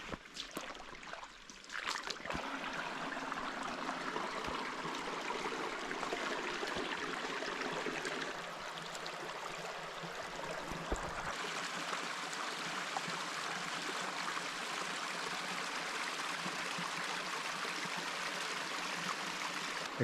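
Steady rushing water of small waterfalls tumbling down a steep wilderness stream above a lake, a continuous broadband wash that holds fairly constant throughout, with a brief knock or bump near the start.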